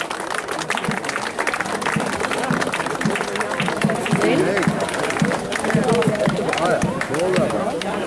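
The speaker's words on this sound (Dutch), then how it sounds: "het applaus duurt net zo lang totdat ze binnen zijn hoor" A crowd applauds at an outdoor town ceremony in Dokkum as costumed town militia arrive. The clapping is steady and sustained, with crowd noise mixed in and voices talking over it.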